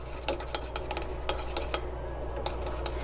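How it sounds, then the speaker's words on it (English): Oils melt in a water bath while a utensil stirs them, giving soft repeated scraping and clinking strokes over a low steady hum, close and quiet, with no talk. "Then we're going to continue to stir."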